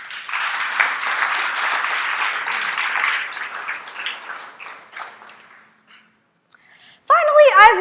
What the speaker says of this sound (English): So can we also give him a huge round of applause?